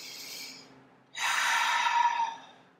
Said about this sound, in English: Find that deep belly breath here.